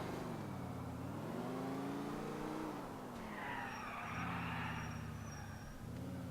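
A police car driven in GTA IV, its engine droning steadily with rising and falling revs, and a rough broadband skid or tire scrub swelling midway through, close and continuous.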